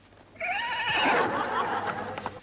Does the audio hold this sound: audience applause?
no